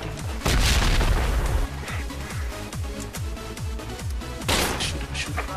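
A grenade explosion in a video game: a heavy, close boom early on, followed by a string of rhythmic thuds and scattered clatter, with a second burst toward the end.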